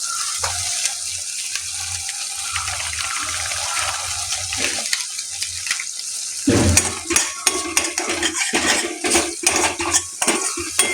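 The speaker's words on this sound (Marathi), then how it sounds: "त्याला छान एकत्र करून घ्यायचं।" Spoon stirring turmeric, red chilli powder and homemade masala into hot oil in a pan for a mixed vegetable bhaji, with repeated clinks and scrapes against the metal, close and fairly loud, growing busier partway through.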